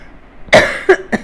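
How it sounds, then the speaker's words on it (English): A person coughs about three times in quick succession, close and fairly loud, the first cough strongest and the following two shorter. "there's some coughing"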